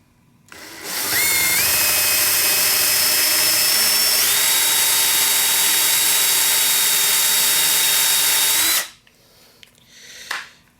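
A power drill whines loudly and steadily for about eight seconds, pitch shifting slightly as it bores a recess hole in wood, then stops, followed by a brief faint clatter.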